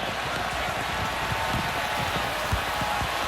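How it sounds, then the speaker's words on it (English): Heavy rain pounds the field microphones at a 2015 Clemson versus Notre Dame college football game, a dense, steady hiss with low, irregular thumps of drops striking the mics throughout. "We hear the heavy rain now thumping on our microphones on the field."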